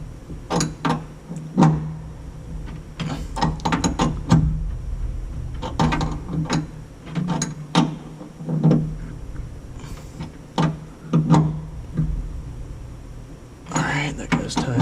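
A ratchet tightens bolts on a Nissan 300ZX in a new workshop, giving bursts of quick, close metallic clicks separated by short pauses.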